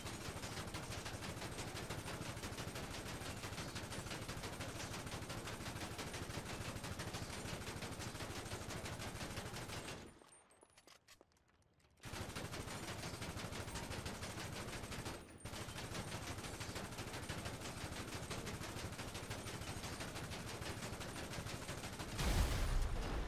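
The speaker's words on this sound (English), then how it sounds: "The compact rifle only took 70 shots, one clip, and 10 extra bullets to destroy the hearse." Rapid, continuous compact rifle fire in GTA Online pounding a Romero hearse, loud sustained bursts broken by a two-second pause near the middle and a brief gap after, ending with a heavier impact.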